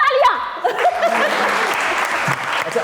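Studio audience at a Pakistani TV variety show breaking into applause, a loud sustained burst of clapping with a little laughter, right after someone speaks over the start.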